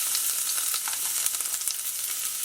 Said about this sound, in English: And we're going to cook the garlic.